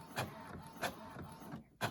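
A loud printer works through a page, its mechanism whirring and clacking with regular sharp bursts roughly every half second over a steady hum.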